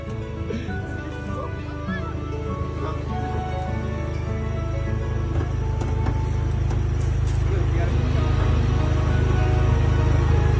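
A car engine with a check-engine fault idles steadily as a low, continuous rumble that swells slightly louder over time, close by, with no talk over it.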